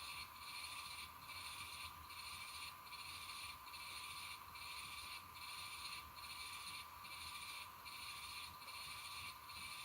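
A Jacob spinning wheel turning while yarn is spun, giving a steady rhythmic mechanical whir with a regular pulsing cycle about every second, quiet and close, with no talking.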